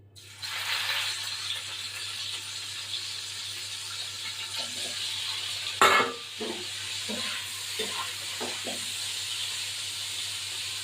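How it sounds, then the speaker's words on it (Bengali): Cubes of salted paneer sizzle and hiss steadily in a hot pan, a continuous broadband fry with a sharp burst near the middle and scattered clicks of stirring afterward, with no talking. "লবণ দিয়ে পনিরগুলো ভাজতে দেবো"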